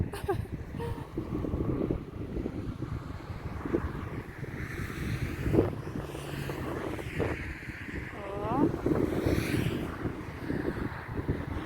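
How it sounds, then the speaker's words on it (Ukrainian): Gusty wind buffets the microphone over steady rushing North Sea surf on the shore of Zeeland, Netherlands, with a few faint voice fragments in the background. "Північне море."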